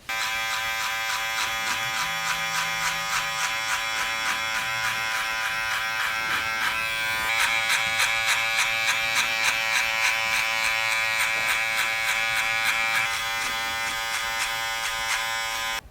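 Electric hair clippers with a number 2 guard, lever open, fade thick hair in a barbershop, a continuous close, bright buzzing hum with slight changes in pitch as the blades move through the hair, with no talk.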